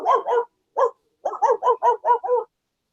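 A dog barks in two quick pairs, then a single bark, then a rapid run of six more close, loud barks, with clean silence between bursts.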